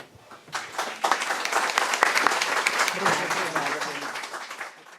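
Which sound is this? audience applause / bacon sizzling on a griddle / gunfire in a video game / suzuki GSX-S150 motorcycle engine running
audience applause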